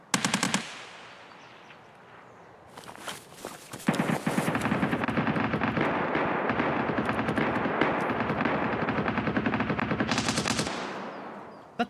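Sustained automatic bursts from a PKM machine gun in the shooter Escape from Tarkov on the Customs map, loud and close, with a brief opening burst, a pause, then a long continuous stream of rapid rounds that cuts off sharply.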